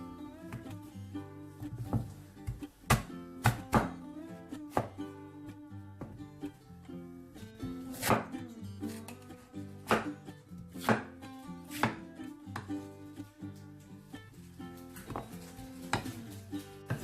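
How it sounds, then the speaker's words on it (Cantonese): A knife chops through lotus root on a cutting board in a home kitchen, sharp irregular thwacks and knocks spread across the stretch with quiet gaps between, fairly close and alone without talk. "蓮藕喺呢度中間切開。"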